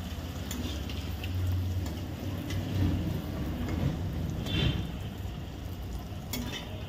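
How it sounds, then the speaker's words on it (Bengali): Homemade papri for papri chaat dropped into hot oil, crackling and sizzling steadily with bubbling swells and occasional sharper pops, close up. "তো তেলটা প্রায় গরম হয়ে এসেছে, এবার ছাড়বো।"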